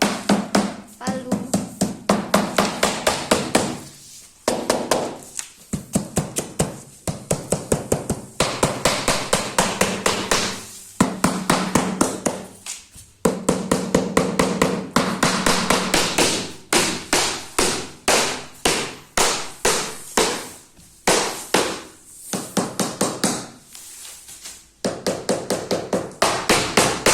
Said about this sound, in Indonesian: Sedikit jepat kayak gini supaya rata, dipukul pakai palu.